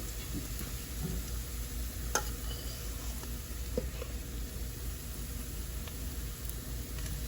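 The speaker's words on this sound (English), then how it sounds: "this is where I'm going to add the fish in" Fish added to a pan of nicely browned fried onions for a Guyanese curry sizzles in a steady, hissing wash, with a few faint clicks and stirring sounds scattered through.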